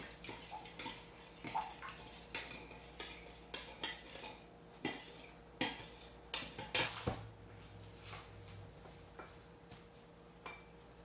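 Top round beef rinsed under a running kitchen tap, with water splashing steadily and repeated clinks and knocks of dishes and utensils in a sink, fairly close and without talk.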